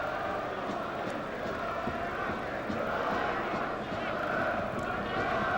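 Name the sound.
football stadium crowd at Nantes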